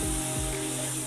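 Onions sizzling in hot oil in a pan while cooking egg chilli masala, a steady close frying hiss with low bubbling, brief and unaccompanied by talk.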